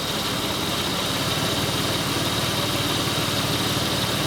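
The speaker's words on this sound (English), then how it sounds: "you can see now I'm not lined up and it's misfiring, it's running bad" A misfiring Toyota/Lexus 3-liter VVT engine idling roughly with the cam and crank timing a couple of teeth off, a steady, close, dense mechanical drone that runs unbroken.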